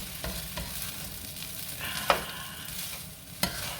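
Vegetable fried rice sizzling steadily in a hot pan while being stirred, with scraping and a couple of sharper utensil clacks over the continuous frying hiss, close and without voices.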